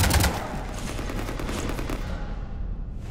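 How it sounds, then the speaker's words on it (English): Automatic weapons fire rapidly on a ship in Mass Effect 3, loud and close, with a dense rattling burst that rolls on for about two seconds and then trails off into rumbling echo. "You want to stop shooting up my ship?"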